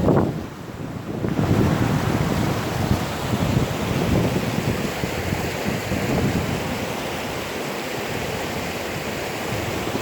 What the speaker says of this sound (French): je ne sais pas si vous entendez le bruit. C'est la belle rivière.